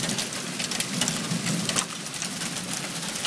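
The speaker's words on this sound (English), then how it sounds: "Hail's coming down too." Steady rain with hail falling during a nighttime thunderstorm, a dense continuous patter and hiss close by, with no talk.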